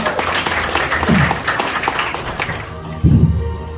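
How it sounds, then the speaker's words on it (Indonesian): Sustained, dense clapping from an audience at a sharia-based business presentation, loud and continuous for most of the stretch before thinning out as a voice comes in near the end. "Tepuk tangan buat PT Gor ya."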